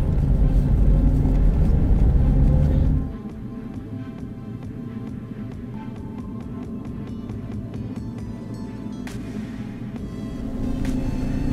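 A Peugeot 107 hatchback with a 1000 cc, 69 hp engine drives along, a loud low rumble at first that drops to a quieter steady engine hum inside the car, with no talk.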